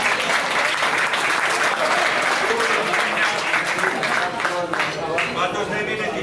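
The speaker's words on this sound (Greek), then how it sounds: "Οπότε ένα μεγάλο χειροκρότημα και στους παράγοντες." At a banquet following a regional football cup final, the audience gives a long, loud burst of applause for the officials, dense clapping at a steady level with crowd chatter underneath, easing slightly near the end.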